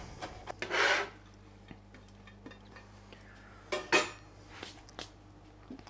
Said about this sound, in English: I'm just gonna run my knife through until I'm happy with the size